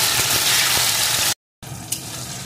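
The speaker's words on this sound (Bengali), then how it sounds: "একটু ভেজে এর ভিতরে দিয়ে দেব কয়েকটা চেরা কাঁচা লঙ্কা আর একটা টমেটো কুচি। এগুলো এর সাথে একটু ভেজে নেব।" Slit green chillies and chopped tomato frying in a pan, a loud close sizzling hiss that cuts out briefly, then returns more softly.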